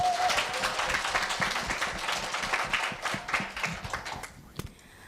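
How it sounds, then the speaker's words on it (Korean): Audience at a middle school speaking festival claps in a dense, steady burst of applause that gradually thins and fades near the end. "마지막 발표를 뜨거운 박수로 맞이해 주시기 바랍니다."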